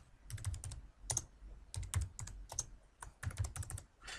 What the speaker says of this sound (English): Next, I'll type in a description.